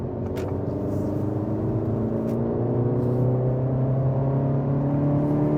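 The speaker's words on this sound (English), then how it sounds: "We are going to see just how fast the Integra is getting onto a freeway." A 2023 Acura Integra accelerates hard onto a freeway. The engine drones steadily from inside the cabin, its pitch climbing as the revs rise through the gear. No one talks over it.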